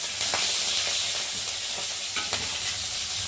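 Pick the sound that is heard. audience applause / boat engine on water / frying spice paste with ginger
frying spice paste with ginger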